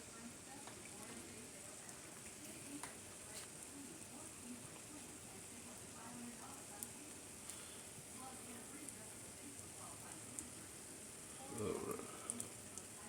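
A patty melt frying in a skillet gives a faint, steady sizzle with scattered small pops and crackles, quiet and continuous, with a slightly louder burst near the end.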